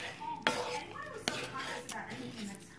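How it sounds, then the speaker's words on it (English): Rice tossed into a shrimp and vegetable mixture in a pan, with a few sharp clinks of a utensil against the pan and soft scraping stirs, faint and close, with background voices. "You want to add your rice into your shrimp and veggie mixture and just toss that all around"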